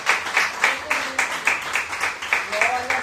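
A church congregation clapping in a steady rhythmic beat, about three claps per second, loud and even, at an evangelical service.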